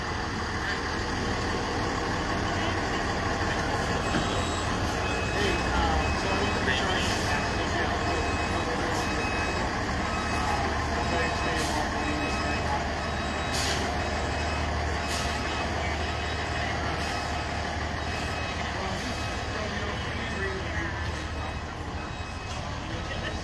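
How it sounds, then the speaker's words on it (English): A fire truck idles steadily at a house accident scene, its low engine rumble continuous throughout while faint reversing beeps pulse at regular intervals, with distant voices in the background. "Wait till the fire truck gets out of here, maybe."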